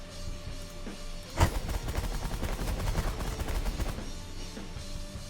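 Minigun fire in The Last Federation video game: a dense, rapid stream of mechanical shots that starts with a sharp crack and continues steadily for several seconds at a moderate, even level.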